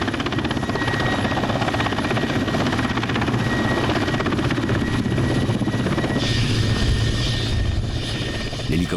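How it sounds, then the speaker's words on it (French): A helicopter landing on the muddy ground of Lyakhovsky Island, its rotor thudding loud and steady throughout, with the engine whine constant, as it sets down close by. "L'hélicoptère se pose sur le sol boueux de l'île Liakovski."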